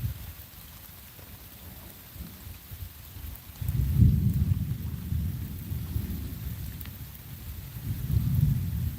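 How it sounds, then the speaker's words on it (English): Steady rain with low, rumbling thunder that swells around the middle and again near the end, heard outdoors at a fishing spot with no voices present. "You had to end it because of the rain."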